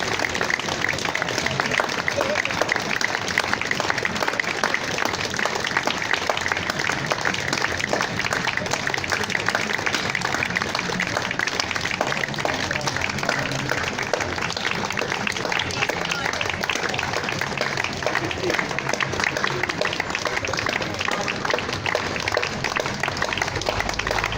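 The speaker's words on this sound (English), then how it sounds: "could we have a minute's applause for Avtar and all of the comrades who are no longer with us" A May Day rally crowd outdoors keeps up steady, continuous applause for a long stretch, a dense even wash of many hands with occasional voices mixed in.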